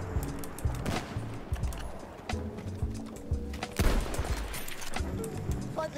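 Pistol shots in the video game Battlefield 1 crack sharply over busy in-game music and battle noise, with a couple of distinct loud reports standing out from the dense mix.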